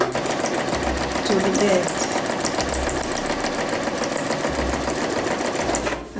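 A domestic sewing machine stitches fabric in a steady, fast mechanical whir with rhythmic needle clatter, running continuously close by while a voice speaks briefly near the end.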